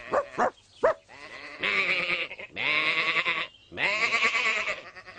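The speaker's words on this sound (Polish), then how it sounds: "Tymczasem Tom i Reksia zaczęli zaganiać owce." A few short sheep bleats followed by three long, loud, quavering bleats, close by with brief pauses between them.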